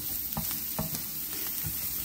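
Beans fry in leftover bacon and chorizo grease in a skillet with a faint, steady sizzle, and a few soft stirring scrapes land at irregular moments. No one speaks.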